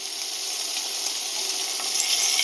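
Barbecue meat sizzles steadily in a pan, a loud, continuous frying hiss close by with no voices.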